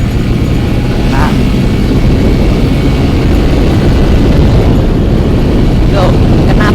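A motorcycle engine running hard at high RPM during a speed test, a loud, steady roar with strong wind rush dominating throughout, no break in the noise.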